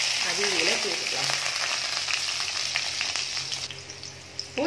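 Ground onion and capsicum paste fries in hot oil for chilli parotta, giving a loud, continuous sizzling crackle close up with faint stirring scrapes throughout.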